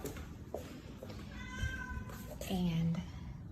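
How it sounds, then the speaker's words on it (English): A cat gives two short meows close by, set against low household background noise and brief speech. "The cat is meowing."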